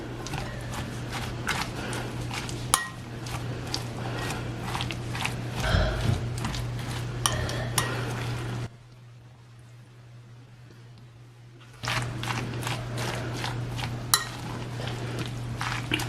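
Shredded cabbage coleslaw with lime juice is tossed and mixed in a bowl, giving a busy run of soft crunchy rustles and light clinks with a short quiet gap midway, then the mixing resumes.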